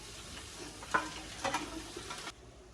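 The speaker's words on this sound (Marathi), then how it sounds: "मी बघतो असा कढईत तेल शिजत" Oil heats and sizzles in a kadai for a chicken curry, with a steady frying hiss broken by a few sharp spatula scrapes and clinks near the start and middle, then dropping quieter near the end.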